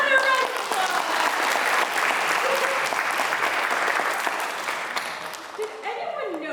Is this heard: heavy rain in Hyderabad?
no